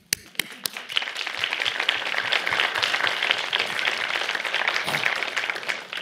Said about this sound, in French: Alors, vous recevez les applaudissements de Mme Simard et les vôtres.